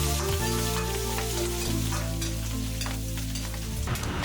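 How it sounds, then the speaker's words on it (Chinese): Cured pork bits sizzle hard in hot oil in a wok, a loud, continuous crackling fry with the scrape of stirring mixed in close up. "把腊肉颗粒倒入锅中，把腊肉爆一下，爆出腊肉多余的油脂"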